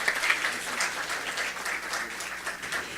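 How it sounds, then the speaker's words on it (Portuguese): An audience at a law lecture gives a warm round of applause, a continuous mass of clapping at moderate volume, slightly uneven and holding steady throughout. "uma salva de palmas"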